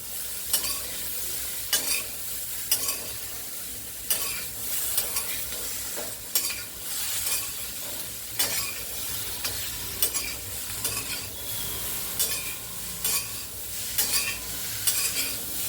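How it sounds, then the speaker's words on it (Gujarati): Tindora and potatoes are stirred in a sizzling pan, with a spoon scraping in repeated bursts every second or two over a steady frying hiss, close and alone. "ટીંડોળા નાખી દો એટલે બટાકા નાખી દે એની ઉપર હલાવી દો"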